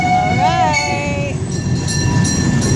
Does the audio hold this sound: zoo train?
yes